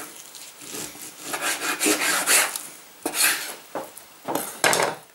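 Knife sawing through British sirloin beef into steaks: repeated rasping, scraping strokes in bursts of a second or so, close and moderately loud, with short pauses between cuts and no talking.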